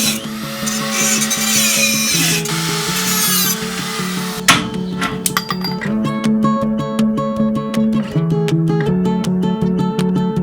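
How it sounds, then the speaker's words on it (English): A cutoff wheel slices through bolts on a vintage camper frame, a loud, high whining grind that gives way to a steady tonal hum broken by rapid rhythmic clicks and rattles, with no talking. "I'll just come in with my cutoff wheel."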